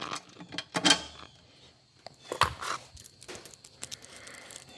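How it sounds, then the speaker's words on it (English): A metal bolt drops into a lawn mower's heavy-duty hitch with a bright metallic clink near the start, followed by faint rattles, knocks and handling noises during assembly. "Drop this first bolt in here."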